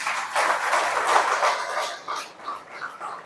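An audience at a spiritual talk in Nowgong, Assam, breaks into a short burst of dense, close applause that tapers off into scattered claps.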